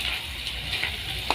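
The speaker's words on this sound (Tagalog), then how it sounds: "Medyo fried ko muna ng konti." Food sizzles and fries in a pan for dinuguan, Bikol style, a close, steady hiss with small crackles and one brief clink near the end, no voices.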